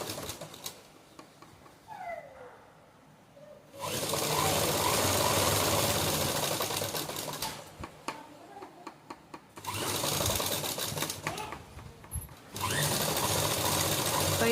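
Sewing machine stitching fabric for a Laddu Gopal idol dress, running loud and close in three long steady stretches broken by short pauses, with someone talking during the gaps.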